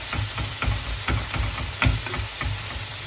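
Vegetables sauté in a pan for a birthday meal, giving a steady sizzle broken by periodic scraping stirs and soft clatters, close and fairly loud with no talk.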